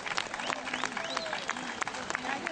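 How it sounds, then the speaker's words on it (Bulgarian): Audience applause at a Bulgarian folk ensemble concert by Trakia of Plovdiv, held in Yambol: dense, steady clapping from a large crowd fills the whole stretch with scattered sharper claps, and voices are mixed in. "нека Ямбол да покаже колко силно може да ръкопляска"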